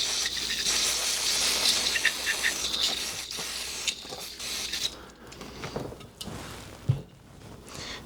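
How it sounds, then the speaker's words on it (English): Brake parts cleaner sprayed onto parts of a Nox 9 handgun over a trash can, a steady close hiss for about five seconds that then breaks into short uneven bursts and faint rattles. "I'm just going to spray a little bit of brake cleaner on here"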